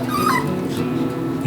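A puppy whimpers and gives high yips in a short, close run of whiny cries, ending on a sharper yelp.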